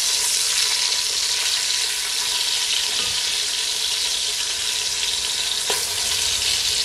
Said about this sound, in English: So we're gonna fry it, sear it up on both sides real nice.